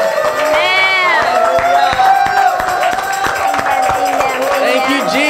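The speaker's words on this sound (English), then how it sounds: "let's give the Lord a standing ovation" A church congregation rises for a standing ovation, with dense, irregular clapping running throughout alongside overlapping voices and sung tones, steady and fairly loud.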